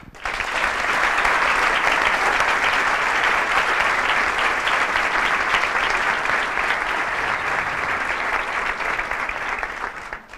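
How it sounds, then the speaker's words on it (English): A large conference audience at the Aarhus Symposium breaks into sustained, dense applause that stays loud and even for about ten seconds before easing off at the end. "Ladies and gentlemen, please give them all a round of applause."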